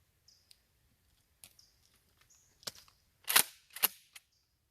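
A 12 gauge shotgun fires non-lethal silicone slugs at targets outdoors; sharp distant reports ring out in a loose series, with faint chirps and quiet gaps between.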